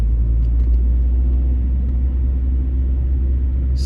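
Car driving through a residential Philadelphia neighborhood, a steady low engine and road rumble heard from inside the vehicle throughout, with no talking.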